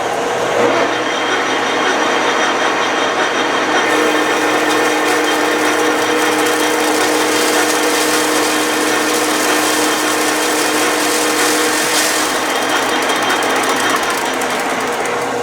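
A metal machining tool takes a deep cut through stock about three-eighths of an inch thick, giving a loud, continuous, chattering grind that holds steady for the whole stretch, with no talking.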